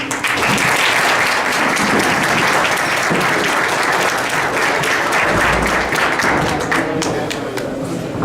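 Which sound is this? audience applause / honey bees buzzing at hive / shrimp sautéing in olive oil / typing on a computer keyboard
audience applause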